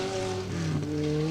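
A Nissan Micra rally car passing on a 4WD forest stage at a stages rally, its engine a steady, somewhat rough drone heard from a distance at low level, with no voices.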